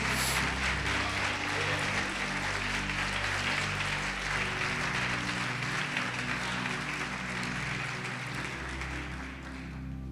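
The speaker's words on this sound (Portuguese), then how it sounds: "Você pode aplaudir o Senhor Jesus e glorificá-lo." A church congregation claps steadily and loudly for a long stretch, a dense sustained applause with a low hum beneath it.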